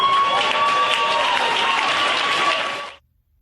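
A crowd applauds and cheers loudly and steadily after a speech, a dense wash of clapping that holds for about three seconds and then cuts off abruptly into silence.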